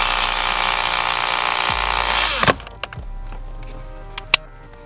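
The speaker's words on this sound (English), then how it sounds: "So I'm gonna go ahead and get my drill now." A cheap handheld electric drill whines at high speed, boring a quarter-inch hole through plastic steering wheel trim on a 2015 Subaru WRX, then stops, followed by a few faint clicks and taps.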